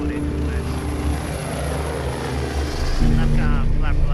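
A medical helicopter's rotors and turbine run at full 100% speed, a loud, close, steady whine and thrum with rhythmic blade chop swelling slightly near the end, while a voice talks over it.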